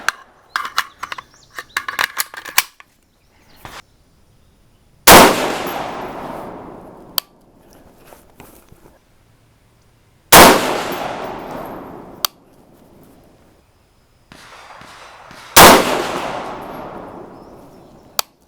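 A 6.5 Grendel AR rifle fires 120gr Speer Gold Dot test loads at an outdoor range: three loud single shots spaced several seconds apart, each with a long rolling echo, after some handling clicks.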